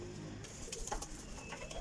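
Sialkoti flying pigeons in a loft give faint, low coos in short bursts, quiet and somewhat distant against a soft background hum.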